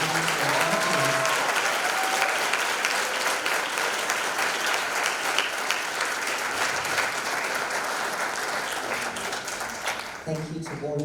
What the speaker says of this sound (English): I'd like to ask the congregation to give one last really good round of applause for all our workers.